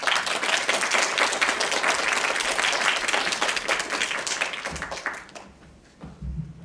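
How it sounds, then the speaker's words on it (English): An audience applauds to welcome the CEO of IGC at a conference session, steady close clapping filling the room for several seconds before tapering off and fading near the end. "Please welcome him with a round of applause."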